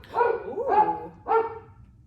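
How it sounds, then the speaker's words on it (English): A dog barks three times in close succession, near and fairly loud, with short gaps between the barks and no talk. "What is that, dog?"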